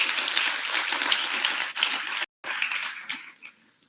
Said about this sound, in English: let us give a clap for ourselves